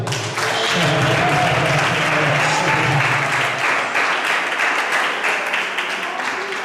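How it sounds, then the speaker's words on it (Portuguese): A church congregation at a gospel congress claps steadily, dense and loud, the applause filling the room throughout with a low murmur of voices beneath it. "Palmas ao Senhor."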